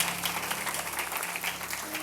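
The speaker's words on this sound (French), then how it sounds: "qu'on fasse un maximum d'applaudissements pour GDM et toute son équipe" An audience applauds in a continuous, even clatter of many hands clapping, steady in loudness throughout.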